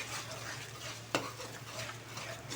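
A spoon stirs a sticky garlic butter tomato sauce with chicken and chicken cubes in a pan, a soft continuous sizzle and swirl with one brief sharp clink partway through.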